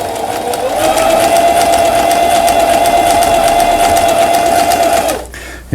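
A Singer 4432 sewing machine, in for repair, runs an overlock-style edge stitch in one continuous, loud, fast-whirring burst lasting about five seconds before winding down and stopping.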